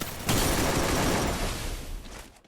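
Gunfire in the Free Fire battle royale game during a Clock Tower rush, a dense, continuous burst of shots that fades near the end, with no talking.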